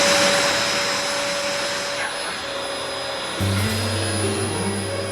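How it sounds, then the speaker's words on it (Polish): A cartoon vacuum cleaner roars steadily with a broad hissing rush and a high whine, shifting pitch partway through as its motor note drops into a lower drone. "Doktor Gilbertson twierdzi, że odkurzacz czasem się psuje, ale powinien dać radę."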